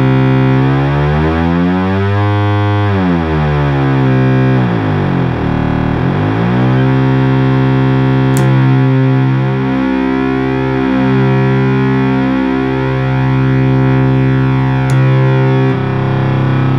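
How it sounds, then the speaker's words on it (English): Loud, buzzy tones from a serviced 1977 Minimoog Model D sweep up and down in pitch, beating and wavering against each other as detuned oscillators drift, sustained without pause. "So you can hear your oscillators."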